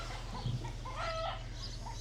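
A hen clucks briefly over steady low rumbling background noise, a short throaty call in the middle, fairly faint and outdoors, in the countryside along the Camino Francés between La Faba and Sarria, Spain.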